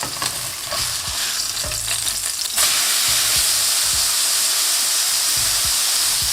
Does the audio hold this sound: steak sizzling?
yes